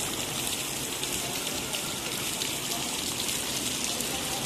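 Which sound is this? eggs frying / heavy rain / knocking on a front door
heavy rain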